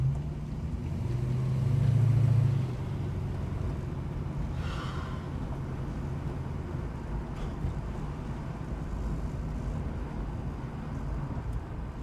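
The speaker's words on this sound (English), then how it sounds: "Feels nice driving it again" A Holden HK car driving along a road, a steady low engine drone with a brief swell in revs early on, heard from inside the car with no talk.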